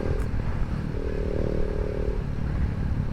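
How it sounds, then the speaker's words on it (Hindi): Motorcycle riding along a busy market road with a vehicle approaching from ahead, a steady rumbling engine drone mixed with road and wind noise, close and continuous. "और ये सामने से गाड़ी आ रही है"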